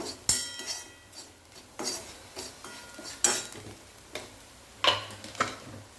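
Spices, turmeric powder and salt being mixed into a bitter gourd curry, heard as a handful of distinct spoon knocks and scrapes against the pot at irregular intervals, close and fairly quiet, with no voices.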